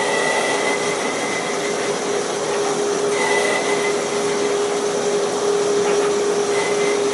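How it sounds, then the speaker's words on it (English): Big raw stainless steel being peck drilled on a machine, a steady loud grinding whine with a sustained tonal hum and faint intermittent squeals over continuous machine noise, no talk. "So we're peck drilling there."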